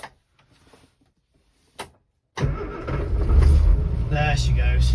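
An Austin Allegro's engine cranks briefly with a couple of short bursts, then catches and starts, settling into a loud, steady idle close to the microphone.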